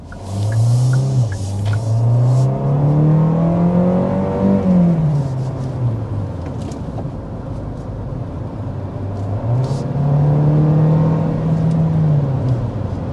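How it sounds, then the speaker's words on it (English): A 2024 Hyundai Sonata Limited hybrid sedan's engine revs up and accelerates twice, its pitch climbing then dropping, with a steady low rumble throughout and no talking. "there we are accelerating with the hybrid Sonata"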